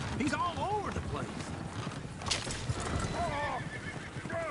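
Horses in a video game whinny and neigh loudly several times, with clattering hooves and the creak of a coach underneath and a busy, rumbling game soundscape.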